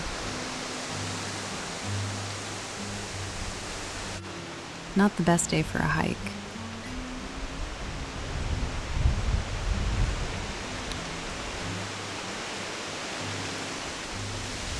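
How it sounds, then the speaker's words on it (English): Steady wind roars and rushes continuously in the Mount Akagi foothills, Japan, buffeting the microphone, with a person briefly speaking partway through. "It was a windy day."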